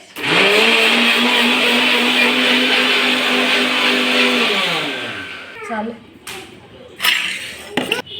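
A kitchen blender grinding oats into coarse powder, a loud steady whirring motor for about five seconds that winds down, followed by a few knocks and rattles.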